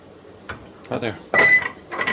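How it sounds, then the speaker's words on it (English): A vise presses a socket through a sheet-metal panel on a grille build, producing a short series of creaking, grinding squeaks and a sharper metallic strain near the end, close and brief. "We'll take the vise and we'll push the socket through the panel"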